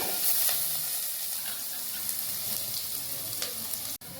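Onions with ginger-garlic paste frying in a pan, a steady close sizzle and crackle with faint stirring, running continuously throughout without talk.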